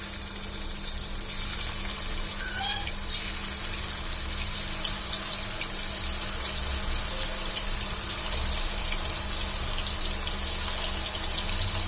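Marinated baby shark pieces fry in preheated oil over a medium flame, a steady dense sizzle and crackle that holds evenly throughout, moderately loud with no talking.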